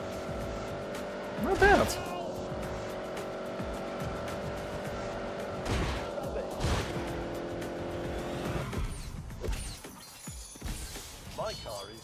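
A car driven fast in The Grand Tour video game gives a steady engine drone with a few sharper whooshing bursts, while a person talks over it.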